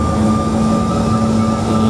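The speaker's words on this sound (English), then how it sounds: "This is takeoff." An aircraft on its takeoff roll, a loud steady engine roar with a sustained low hum and a high whine, continuous throughout.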